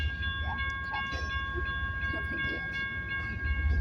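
A BNSF intermodal freight train rumbles past close by, steady low rolling noise with faint wheel clicks and a sustained high tonal whine from the cars, continuous throughout.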